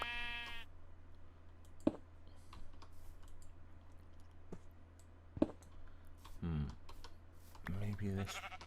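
A few short sheep bleats from the Minecraft Feed the Beast modded video game come at the start and again near the end, alongside scattered keyboard and mouse clicks and quiet talk.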